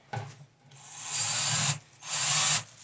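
A power drill drives a screw into wood while a 13-gallon Homefort chicken coop is being assembled, sounding as two sustained close whirring bursts separated by a brief pause.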